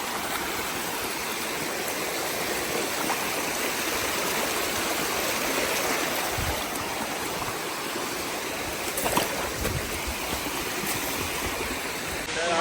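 A large waterfall and a flowing stream on a trek give a steady, dense rushing roar that holds constant throughout, with faint sounds of movement.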